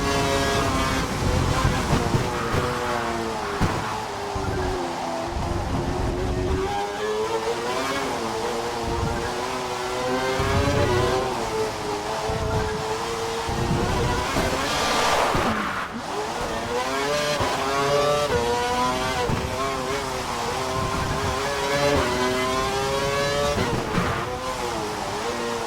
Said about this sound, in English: I want you to drive the last sector of the lap and hit every apex